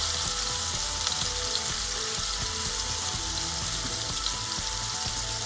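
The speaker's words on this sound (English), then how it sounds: "You want to make sure to sear all sides." Chunks of beef for stew sear in a hot pan with a loud, steady, close sizzle and crackle that runs unbroken throughout, with no talking.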